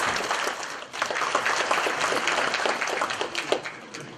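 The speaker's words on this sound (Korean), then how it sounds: "박수로 환영해 주시면 감사드리겠습니다." A crowd claps to welcome a speaker at a Gimpo Citizens' Day celebration, starting softly then swelling into full, dense applause that stays loud and even, with a few sharper claps standing out near the end.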